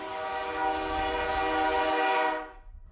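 Synthetic train horn alert for a hype train in Space Station Tycoon, a loud sustained chord-like blast that holds steady, then fades out abruptly near the end, with no talking over it.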